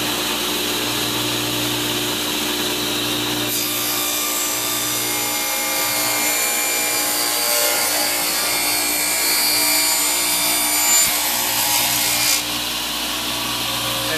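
A new Craftsman table saw runs with a steady motor hum, then its blade bites into a wooden board for several seconds with a louder, rougher sawing roar before the cut ends and the motor drones on alone.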